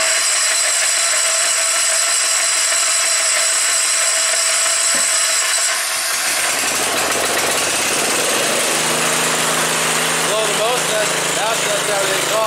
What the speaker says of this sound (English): put the coil wire right back on the spark plug, turn the fuel on, and it's gonna fire up for us